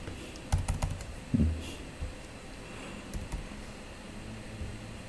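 Clicks on a computer keyboard while entering patient registration data into a form, a few quick close keystroke bursts over a quiet hum of room noise.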